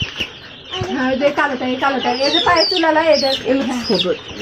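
A rooster clucks and crows in a rapid, loud run of calls close to the microphone.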